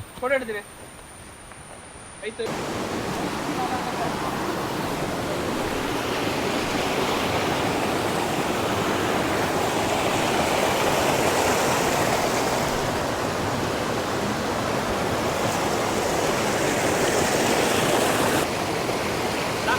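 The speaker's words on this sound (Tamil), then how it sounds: "சவுண்டு கேட்க உங்களுக்கு, ஃபால்ஸோட சவுண்டு." A waterfall beside a forest trail on Pothigai hill roars as a steady, loud, broadband rush that fills the whole stretch, following a brief, quieter opening moment.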